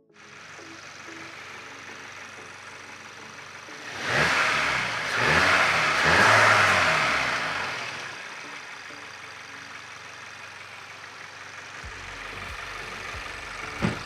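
A car engine starts and revs up while the car sits on ramps after an oil change, a loud rising roar that peaks and then settles into a steady idle, with no talking.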